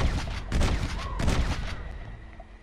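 Shotgun fire in Red Dead Redemption: a few loud, closely spaced booming blasts with reverberant tails, dying away toward the end.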